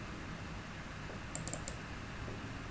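A computer mouse clicking a few times in quick succession during office spreadsheet work, the faint small clicks sitting over a quiet hum, with no talking.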